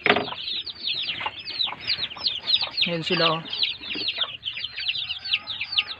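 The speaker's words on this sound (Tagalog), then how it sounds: "titingnan natin dito yung mga maliit nating manok" Small native chickens cluck in a rapid, overlapping chorus close by, with one lower, louder call partway through and a voice speaking briefly over them.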